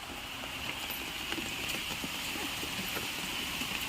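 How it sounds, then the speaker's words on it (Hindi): Heavy morning rain falls in cold weather, making a steady, dense hiss with faint scattered patter of drops. It is continuous and moderately distant, with no clear talk over it. "तेज हो गई बारिश।"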